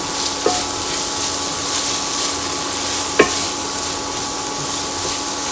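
Onion sautéing in a pan for a CKP-style phodnicha bhaat, a steady soft sizzle with a couple of sharp spoon-on-pan clinks from stirring.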